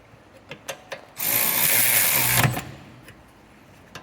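Cordless power tool on a Toyota C-HR rear brake job, one loud continuous whirring burst of about a second and a half driving in a brake caliper bolt, preceded by a few faint clicks and followed by quiet handling noises.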